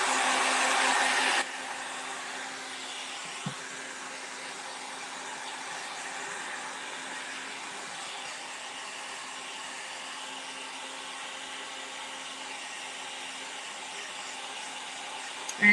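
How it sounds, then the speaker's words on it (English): A hair dryer blows steadily to dry craft paint on a Christmas DIY project. It is loudest for the first second or so, then settles into an even, continuous whir with no talking. "So this stuff needs to dry. Let me try to dry it a little."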